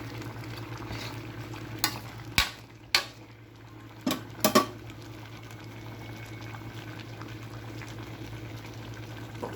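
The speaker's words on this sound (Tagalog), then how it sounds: "Kumukulo pa lang siya." A steady low bubbling simmer of pork ribs caldereta sauce with chili fills the background, broken by a few sharp clinks and taps of a utensil against a pot.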